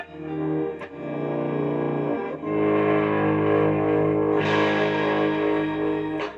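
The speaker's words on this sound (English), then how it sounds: "Very pleasant distortion." A heavily distorted electric guitar rings out in sustained, gritty chords through an overdriven tube amp. It is loud and continuous, with a brief pause between strums.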